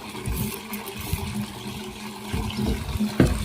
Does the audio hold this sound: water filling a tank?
yes